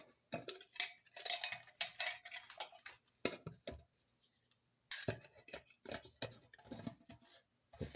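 Light, close clicks and taps ring out as a lid is fitted tightly onto a container of starter covered with plastic wrap, a scattered run of small plastic knocks with brief pauses and no talking.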